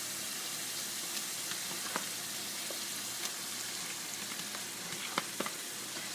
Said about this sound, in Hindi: और चिकन को हमने इतना भूनना है, इतना पकाना है कि इसका जो ऑयल है वो अलग से नज़र आने लगे।